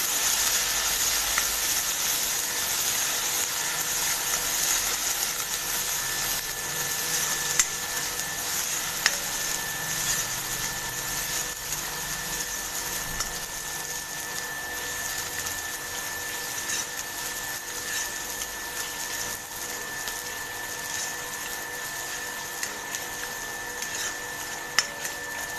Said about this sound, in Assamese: ৰং হোৱালৈ পিঁয়াজখিনি ভাজি ল'লোঁ।